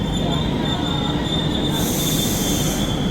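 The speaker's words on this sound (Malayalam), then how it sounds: "ഇതാണ് ഇവിടുത്തെ മെട്രോ. നമ്മളങ്ങനെ മെട്രോയിൽ കയറി." A Milan metro train pulls in with a loud, sustained high-pitched squeal from its wheels over a steady rumble, close by on the platform, and the squeal sharpens toward the end.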